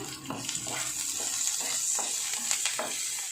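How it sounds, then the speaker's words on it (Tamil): Lentils, dried red chillies and curry leaves frying in oil for ragi adai make a soft, steady sizzle with light stirring scrapes, fairly quiet and without any voice. "அதுக்கப்புறமா காஞ்ச மிளகாய், கருவேப்பிலை எல்லாம் சேர்த்து நல்லா ப்ரௌனாக வறுத்து எடுத்துக்கலாம்."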